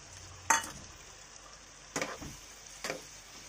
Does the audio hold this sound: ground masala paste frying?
yes